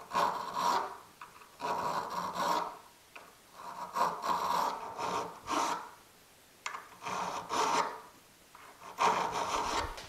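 A hand file rasps across the cutting edge of a Forstner bit held in a vise. The close, dry scraping strokes come in a slow, steady rhythm with short pauses between them.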